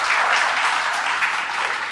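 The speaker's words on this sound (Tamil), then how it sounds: "அது எல்லாரும் கைதட்டல் கொடுக்கலாம்." An audience at a university gathering applauds, giving a dense, loud, continuous wash of clapping with no pauses or voices.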